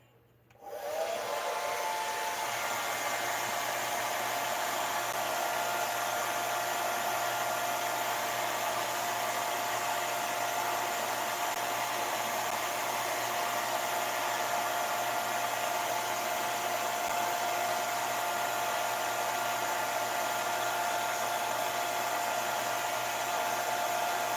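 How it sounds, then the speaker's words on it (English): A blow dryer runs close and loud with a steady, unbroken roar and faint whine, switching on abruptly and continuing alone for over twenty seconds, used to dry paint. "Blow dryer."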